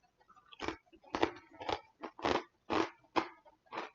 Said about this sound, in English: How crunchy does this sound for you guys?